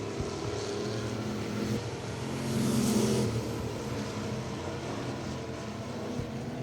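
Thunder Bomber race cars roar around Travelers Rest Speedway in a heat race. The engine drone is dense and steady, swelling briefly as the pack passes, heard from a distance without talk.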